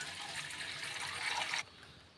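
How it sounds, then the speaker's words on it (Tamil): Water pours steadily into a pan on a stove for a Tamil ragi semiya kitchadi, a continuous close splashing fill that stops abruptly near the end, leaving quiet room tone. "இதில் மூணு டம்ளர் தண்ணி ஆட் பண்ணிக்கலாம்"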